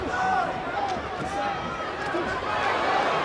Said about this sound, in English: The crowd roars every time Duarte touches Ryan.